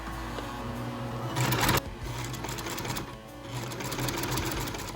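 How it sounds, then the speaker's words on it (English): A sewing machine stitches a fabric face mask down through a diagonal elastic strap, with a steady close whirring run that surges briefly, pauses, then continues at an even pace. "we're going to sew all the way down to about right here"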